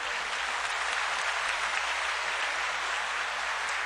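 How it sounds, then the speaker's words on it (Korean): Sustained audience applause from a church congregation during a family worship service, dense and steady clapping throughout with no talk over it. "큰 박수로 한번 축복해 주세요"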